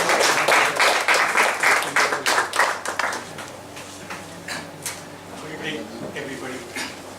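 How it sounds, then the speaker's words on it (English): An audience breaks into a dense round of clapping that fades out over several seconds. Scattered claps trail off as a voice begins to speak. "A warm round of applause."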